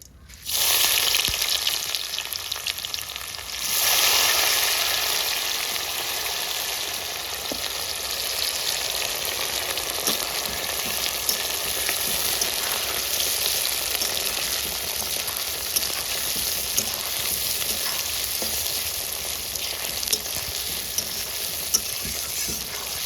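Chopped onion, green chilli and tomato fry together in hot oil, a loud sizzle that flares when the ingredients go in, then settles into a steady crackling hiss with occasional stirring scrapes over a long stretch.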